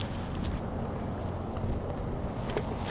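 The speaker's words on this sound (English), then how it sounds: "Come on, wind!" Cold desert wind rushes steadily across an open golf course at night, a continuous broadband roar buffeting the microphone with no voices heard.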